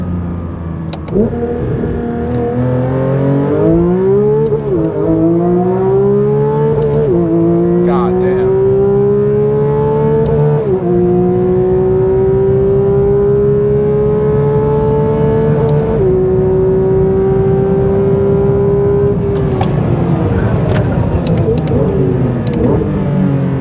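A fast, high-performance car accelerates hard through several gears, engine note climbing loud and close in repeated rising pulls with shift breaks, while a driver briefly swears.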